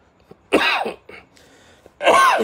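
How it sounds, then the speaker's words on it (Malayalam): Two harsh, throaty allergy coughs close by, separated by a short pause with a small catch of breath between them. "ചുമ മാറിയിട്ടില്ല ഈ അലർജിയുടെ പ്രശ്നമാണ്"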